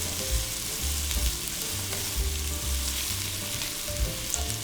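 Garlic and ginger frying in a pan give a close, steady sizzle with low scraping stir strokes throughout, without talk.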